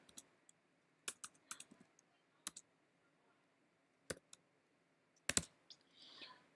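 Scattered keystrokes on a computer keyboard, short bursts of clicky taps with pauses between them, close and fairly quiet with no talking.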